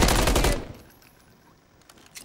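Loud, rapid automatic gunfire in Call of Duty MW3 ranked play, a dense burst for half a second that cuts off, then a quiet stretch with a few faint distant shots.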